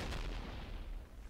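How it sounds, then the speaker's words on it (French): A large TNT blast in Minecraft with the Too Much TnT mod sounds as one loud, deep, rumbling boom that fades out over about a second. "Gros lag est égal à grosse explosion."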